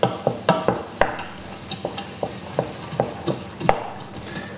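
Cumin gets stirred into onions sizzling in a pan: a brisk, irregular run of about a dozen scraping, clacking utensil strokes over a steady frying hiss, close and fairly loud, with no talking.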